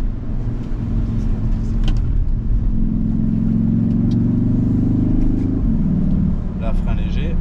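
Car at full throttle on a driving track, a loud close engine roar rising steadily in pitch, then a sudden drop as it shifts or lifts, with a voice talking over it.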